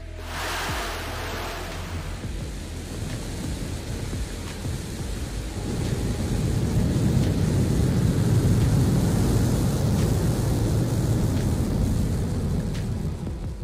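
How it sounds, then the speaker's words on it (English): Blue Origin New Shepard NS-14 rocket launching from the West Texas desert: a deep, broad roar swells after ignition and holds loud and steady, rumbling like distant thunder. "Yesterday, Blue Origin launched their first mission of the year, the new Shepard NS-14."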